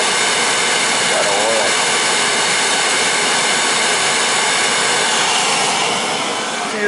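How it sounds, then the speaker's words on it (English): An oil-fired hot water heater's burner, running low on fuel, gives a loud, continuous roaring rush with a steady humming drone underneath, close and unbroken for the whole stretch. "She's running low on oil for me. That was sputtering"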